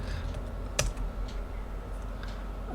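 Code is typed on a computer keyboard in a quiet room, a soft, close patter of scattered keystrokes with one sharper, louder tap near the start over a low steady hum.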